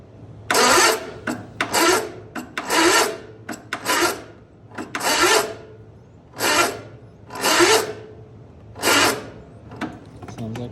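A Cub Cadet zero-turn mower engine cranks on a weak battery in a 50-degree garage, with repeated rasping starter bursts in an uneven rhythm and short pauses between, loud and close, never catching.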